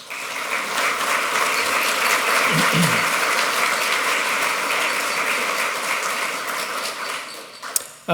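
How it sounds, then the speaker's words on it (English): A room full of guests at the opening panel of a city-planning event breaks into sustained applause, dense and steady for about seven seconds before tapering off abruptly. "Let's give them a round of applause."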